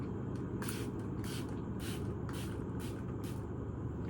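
Makeup setting spray mists onto a face in about seven short, hissing bursts in a steady rhythm, close and fairly loud over a constant low background rumble.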